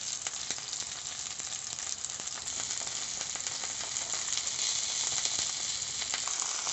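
Steady, dense crackling sizzle of meat pieces frying in a lidded pan, loud and continuous with scattered sharper pops throughout.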